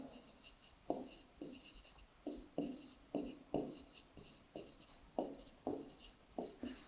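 Chalk or marker strokes on a classroom board during a maths lesson, a series of short, close taps and scratches in an uneven rhythm with brief pauses, with no one talking.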